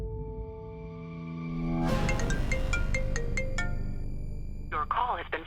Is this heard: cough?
no